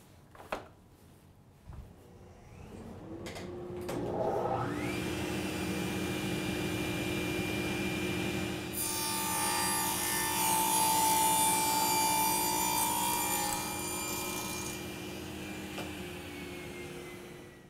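A saw spins up and cuts through a wooden test piece while grooving a tenon, a rising motor whine followed by a sustained grinding, rasping cut, louder in the middle, then a steady run-down.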